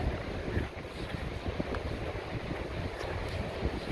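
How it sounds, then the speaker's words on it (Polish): Sea breeze blowing at the seaside in the morning, a steady broadband rush of wind buffeting the microphone with the soft wash of the ocean beneath, continuous and fairly loud throughout, with no one talking. "Poczujcie z nami tą morską bryzę."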